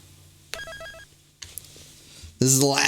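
A phone rings with a short burst of repeating electronic ringtone chimes, fairly loud and near, followed after a quiet gap by someone speaking.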